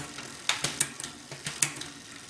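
Bicycle chain clicking down the rear cassette as the derailleur shifts, a series of about eight sharp, close ratcheting ticks at irregular intervals, no talking.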